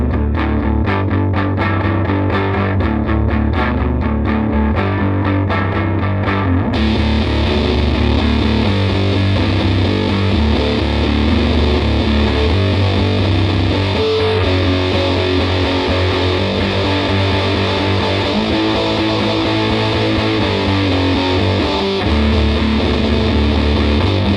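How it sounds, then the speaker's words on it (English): Electric guitar played through a Fender BassBreaker amp with both channels engaged and a fuzz pedal in front, giving a thick, heavily distorted, sustained tone that runs loud and continuous throughout, with no talking. "The fuzz is going to make the both channel input, the heavier drive, go completely evil."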